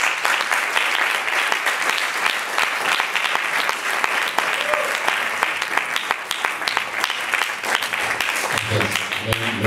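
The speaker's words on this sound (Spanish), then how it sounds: "Un aplauso." Sustained, dense applause from a festival crowd as a performer takes the stage, many hands clapping steadily and loudly for several seconds without a break.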